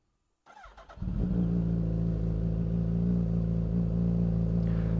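A Suzuki Hayabusa motorcycle with about 307 miles on it cranks over briefly, then fires and settles into a loud, steady, close idle that holds to the end with no talking.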